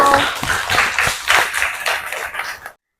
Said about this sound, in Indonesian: kita beri tepuk tangan dulu untuk Aldiano.